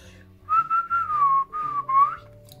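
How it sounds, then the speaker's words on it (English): A person whistles a short wavering melody in four or five sustained phrases, clear and close, with a faint low hum underneath and no talking. "can I whistle? Naturally."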